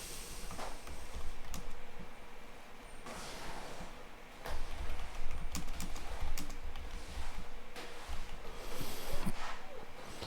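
Someone types a date range on a computer keyboard, quick scattered key clicks in several short bursts over a low room rumble, close but fairly quiet, with no talking.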